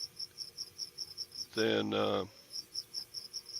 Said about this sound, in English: when a cricket chirps, an angel gets its wings